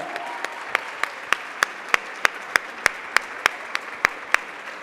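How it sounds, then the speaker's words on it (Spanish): Steady, evenly spaced claps ring out in a rhythmic beat over a soft crowd murmur, an audience applauding at a live stage event. "Y yo quiero pedir un gran aplauso"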